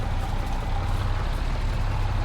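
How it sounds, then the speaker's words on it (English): A tractor engine in Farming Simulator 22 labors in a field, giving a steady, loud, low droning rumble that strains throughout the short stretch with no talk over it. "this tractor's actually struggling with this"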